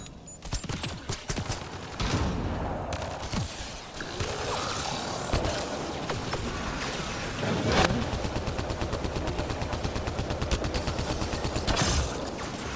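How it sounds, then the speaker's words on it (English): Video game gunfire rattles in dense automatic bursts with sharp individual shots and mechanical clicks, loud and continuous throughout with no talking. "I was shooting you in the face"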